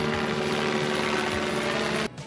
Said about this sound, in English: Can't hear you, there's too many choppers.